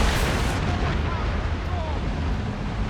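Naval battle in Assassin's Creed Rogue with ship cannons booming through a dense, continuous roar of battle noise, shouted voices mixed in throughout.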